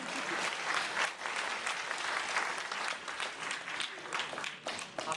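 A film-event audience breaks into steady, dense applause that fills the whole stretch, with some voices mixed in.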